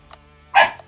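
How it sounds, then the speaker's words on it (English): A single loud, sharp bark from a dog shut inside a room, close and abrupt, with a faint yip just before it. "That was my dog. Yeah, was mad because he was trapped in my room."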